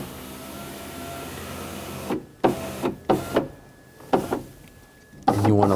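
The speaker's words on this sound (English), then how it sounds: "With the ignition on, we're going to lower the window." A 2000-2006 BMW X5 rear power window lowers with a steady electric motor whine, broken by several sharp clunks and rattles near at hand as the glass travels down.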